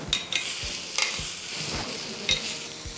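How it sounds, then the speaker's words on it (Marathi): Spices and chilli flakes sautéing in a pan for a corn and paneer paratha filling give a steady low sizzle, broken by repeated scraping strokes and light taps of a spatula, close by and with no one speaking. "हे सगळे मसाले आपण परतून घेणार आहे"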